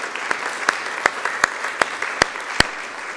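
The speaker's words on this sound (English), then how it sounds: "So if you can join me in a round of applause for Georgiana." Room applause at a college board of trustees meeting honoring a retiring staff member, a soft bed of clapping with a few loud, sharp individual claps standing out at regular intervals.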